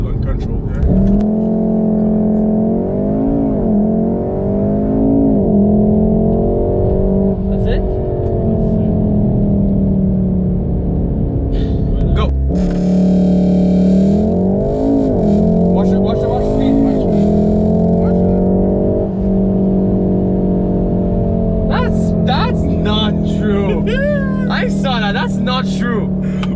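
A Volkswagen Golf R is driven hard: a loud, steady engine drone swells and rises as it revs up and accelerates, with a voice talking over it throughout.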